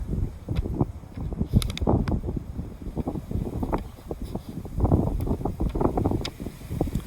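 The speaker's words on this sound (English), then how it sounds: "Man, it was windy out there." Gusty wind buffets the microphone in uneven rumbling bursts, rising and falling continuously with no voices.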